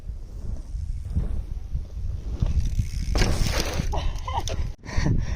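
Strong wind gusts buffet the microphone in an open desert setting where mountain bike jumps are being built, a steady low roar that swells louder in bursts, with brief faint rustling.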